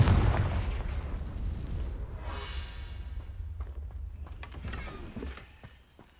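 A Confringo fire spell bursts in Hogwarts Legacy with a loud boom at the start, followed by a rumbling low tail and scattered crackles that fade over several seconds.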